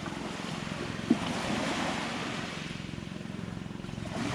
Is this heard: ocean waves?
yes